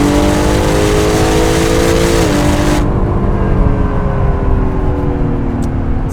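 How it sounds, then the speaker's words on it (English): 2017 Acura NSX performance hybrid in Sport Plus with the exhaust opened, engine howling at high revs with rising harmonic tones, then cutting abruptly into a lower drone as a gear change or lift-off hits midway; loud and close throughout. "Let's jump to Sport Plus, where it's going to crack the exhaust open a bit more."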